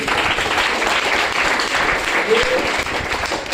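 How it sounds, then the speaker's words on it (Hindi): Audience at a wellness products presentation breaks into loud, steady applause, a dense continuous clatter of many hands held at full strength throughout. "आयुष्वास को एक जोरदार ताली होनी चाहिए"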